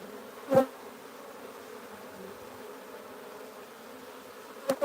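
A swarm of wild bees buzzes in a steady, close drone during a hive transfer, with a couple of brief knocks breaking through the continuous hum.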